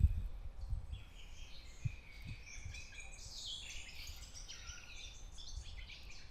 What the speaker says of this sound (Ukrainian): Зупинився на пару хвилин для того, щоб насолодитися тим, як співають пташки, от тільки послухайте.